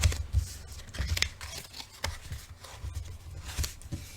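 Paper folded by hand for an accordion book, a close run of soft creases, rustles and light taps at an uneven rhythm, with no voice.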